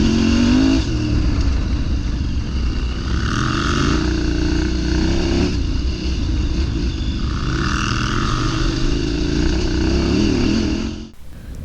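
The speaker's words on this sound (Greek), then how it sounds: "ήταν η σειρά του Chris να οδηγήσει το 790 ράλι του Μπλέξο" A KTM 790 Rally motorcycle rides off-road with a loud, close engine drone that rises and falls through revs and gear changes and cuts off abruptly at the end.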